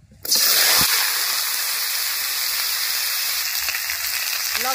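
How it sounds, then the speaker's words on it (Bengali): Potato, eggplant and drumstick pieces go into hot oil in a pan and set off a loud, steady sizzle that begins abruptly and keeps crackling without a break. "সবজিগুলো ভেজে নেব।"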